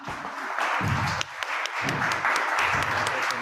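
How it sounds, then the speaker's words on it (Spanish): Applause for the lecturer at a talk on Social Security at CCH Naucalpan, a steady patter of many hands clapping at moderate loudness, with a little speech mixed in. "Un aplauso, por favor, al maestro."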